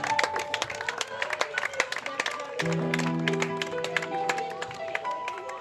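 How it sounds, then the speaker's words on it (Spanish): Church congregation applauding, a dense patter of claps throughout with sustained keyboard tones entering midway and voices mixed in. "Denle un fuerte aplauso a nuestro Señor Jesucristo"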